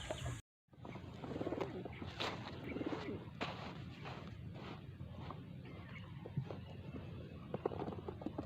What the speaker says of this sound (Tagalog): Yun na mga ibon natin.